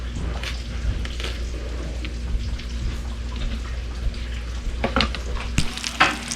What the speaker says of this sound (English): Excuse the noise in the background. I've got the pan going